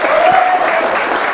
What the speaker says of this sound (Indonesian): tepuk tangan untuk teman-teman mahasiswa juga dong